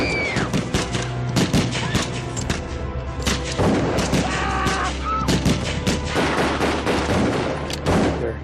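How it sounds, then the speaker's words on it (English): Rapid bursts of gunfire crackle near an airstrip with planes at Jonestown, sharp shots and heavier booms overlapping in a loud, sustained fusillade across the whole stretch. "And that's when I hear the gunshots."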